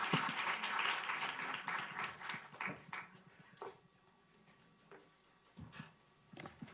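Audience applause closing an education innovation event, a dense burst of clapping that thins out into scattered claps and a few isolated late claps.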